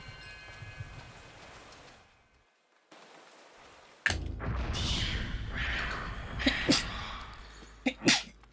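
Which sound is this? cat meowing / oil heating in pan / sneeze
sneeze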